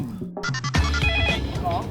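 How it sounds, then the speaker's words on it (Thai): A Max Safe home security intrusion alert sounds from a phone as a brief run of bright electronic tones, quickly followed by a dense, loud mix of music and voices. "มันมีการแจ้งเตือนจากแม็กเซฟอะครับว่ามีคนบุกรุกห้อง"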